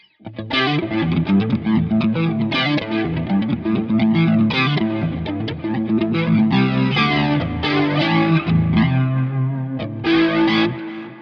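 An electric guitar played through an amp capture preset with distortion and chorus effects, strummed chords and riffs ringing out loud and continuous, alone.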